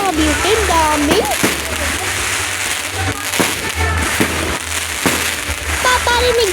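Fireworks explode over a town plaza in a rapid, irregular series of loud bangs and crackles, close and booming, while someone talks over the blasts.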